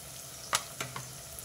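Chana dal fries in a pan with soft, faint sizzling and a few crisp pops and crackles.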